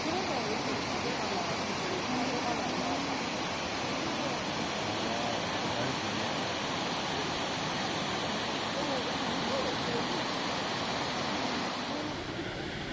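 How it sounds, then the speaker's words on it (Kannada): Frozen Falls waterfall rushes in a steady, loud, unbroken roar of broadband water noise that holds evenly throughout, close and enveloping. "ಇದು frozen falls water false so ಬನ್ನಿ ತೋರಿಸ್ತೀನಿ"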